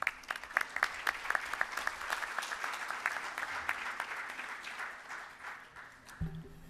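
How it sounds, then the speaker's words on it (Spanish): An audience at a Peruvian electoral studies congress applauds to welcome Dr. Daniel Levin, crisp individual claps rising into moderate steady applause that thins and tapers off, with a low thump near the end. "Recibámoslo con un fuerte aplauso al doctor Daniel Levin."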